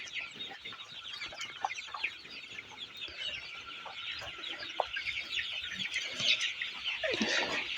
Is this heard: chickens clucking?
yes